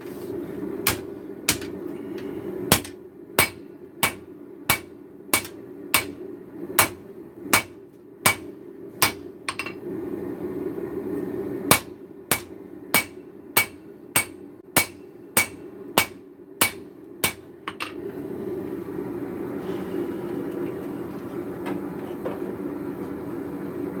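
Hammer blows ring out on a steel billet being forged, sharp metallic strikes in quick, evenly spaced bursts with short pauses between runs, loud and close over a low background rumble.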